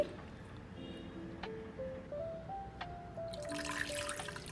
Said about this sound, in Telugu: దీనిలోనే మనం ముందుగా నానబెట్టుకున్న చింతపండు రసం కూడా వేసుకోవాలి